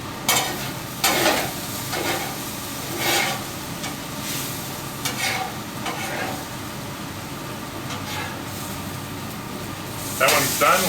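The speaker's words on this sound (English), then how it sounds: "So we go ahead and put a steak on each bottom." Steak sizzling steadily on a Griddle Master griddle plate, a constant close frying hiss with occasional scraping and someone talking over it.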